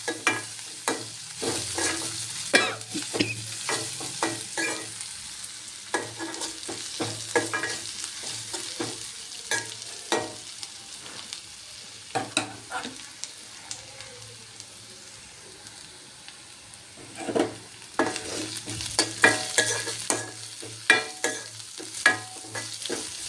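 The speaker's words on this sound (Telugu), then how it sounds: "పోపు దినుసులు వేసుకుంటున్నానండి." Tempering spices crackling in hot oil in a pan, with a steady sizzle and repeated sharp pops and spatters close by, busier at the start and again near the end.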